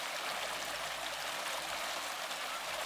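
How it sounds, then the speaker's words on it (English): Steady rushing and burbling of a small creek flowing nearby along the John Muir Trail in light rain, a continuous even wash of water with no voices. "we're following this little creek"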